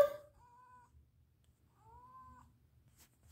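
A house cat meowing to be let outside gives two drawn-out, rising meows, close by, separated by a short pause in an otherwise quiet room.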